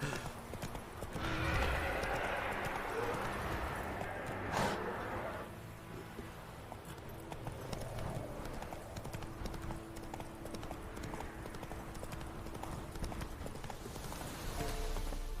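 Roach, Geralt's horse in The Witcher 3: Wild Hunt, gallops with a steady, close clip-clop of hooves that holds throughout. A brief whinny comes early on, and faint talk sits beneath the hoofbeats.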